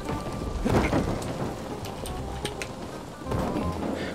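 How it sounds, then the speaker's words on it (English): Rain patters steadily in the video game Dying Light 2, with rumbles of thunder, a few sharp crackles and bursts, fairly loud throughout. "Oh man, the rain!"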